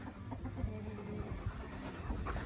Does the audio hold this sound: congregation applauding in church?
no